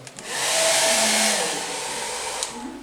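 A hair dryer blows hot air over a watercolour painting during an art society demonstration: a loud, steady whooshing roar that starts abruptly and holds close for the whole stretch, with no talk.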